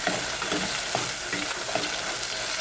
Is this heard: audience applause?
no